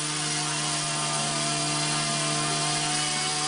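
An Axius CP collective-pitch RC helicopter, a Genius CP and Axe 100 hybrid, runs on a bench flight test with a steady, loud, close rotor and motor whine that holds without a break.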